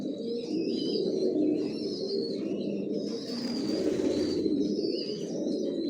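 Racing pigeons coo softly and continuously in a loft, their low murmuring overlapping at close range, with a few higher chirps and a brief flutter of wings over a steady background.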